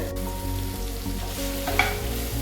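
Tomato curry ingredients sautéing in a pan over medium heat: a steady close sizzle and frying hiss with light stirring scrapes, alone without talk.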